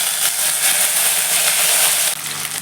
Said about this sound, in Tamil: இப்போ கொஞ்சம் எண்ணெய் சேர்த்துக்கிறேன். கொஞ்சம் கடுகு சேர்த்துக்கிறேன். இப்போ இஞ்சி பூண்டு பேஸ்ட்டு சேர்க்குறேன்.